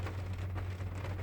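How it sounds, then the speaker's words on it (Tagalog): Steady rain patters continuously on an evening road in Kuwait, a dense hiss of drops with a low constant hum underneath, fairly quiet. "Umuulan pa."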